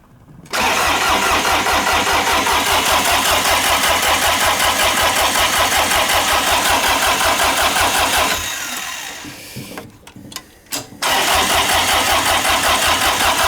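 A John Deere 430 lawn tractor diesel engine with faulty glow plugs cranks and catches, then runs loud and close in a steady rapid chugging idle, stumbling and dropping out near the end before roaring back to an even run.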